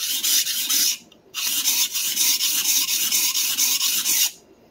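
A common stainless steel santoku kitchen knife is drawn over a sharpening stone in long, even rasping strokes, two sustained passes with a short pause between them, close and loud with no talking.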